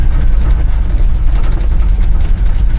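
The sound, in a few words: old Dodge W100 truck engine running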